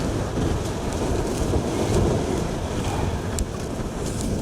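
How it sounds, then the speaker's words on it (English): Strong wind roars across Steeperton Tor on Dartmoor during a cold, wet wild camp, a loud, continuous gusting rush battering the microphone with brief sharper crackles. "It's windy up here."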